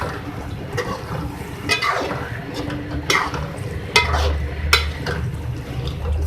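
A spoon stirs fresh coriander into a palak aloo begun curry of spinach, potato and brinjal in a pan, with soft repeated scrapes and wet shuffling over a low background hum.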